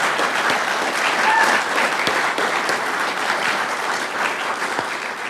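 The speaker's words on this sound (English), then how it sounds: "give her a great round of applause." A large audience at a hometown hero's welcome honoring Captain David A. Christian in Bensalem breaks into sustained applause, a dense wash of many hands clapping steadily for over five seconds with no voices on top.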